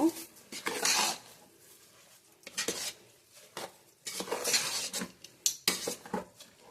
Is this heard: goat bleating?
no